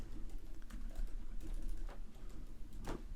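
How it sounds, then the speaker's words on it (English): Faint clicks from a computer keyboard tapping irregularly in a quiet room during a podcast recording, sitting low under a steady background hiss. "I feel like you're typing more than Dwebble"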